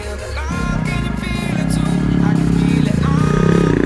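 A motorcycle engine revs steadily and grows louder as it is pushed to climb, with people talking nearby over the engine.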